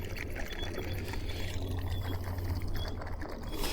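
An AIPER Seagull Pro robotic pool cleaner scrubs the pool walls up to the waterline, a steady faint underwater churning and mechanical whir with light clicking, no talk.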